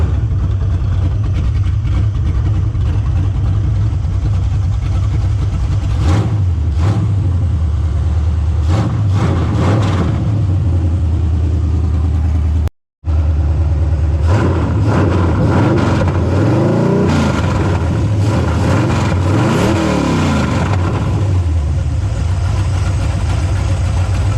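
A carbureted engine in a GMC Yukon XL Quadrasteer idles steadily after a vacuum line repair, a loud, even low rumble with a few brief throttle blips and a momentary cut partway through.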